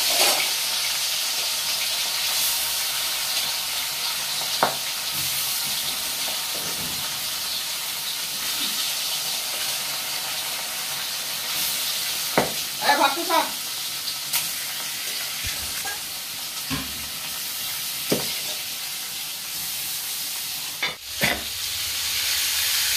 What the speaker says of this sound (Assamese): এতিয়া আমি মাছটো তেলত দিম।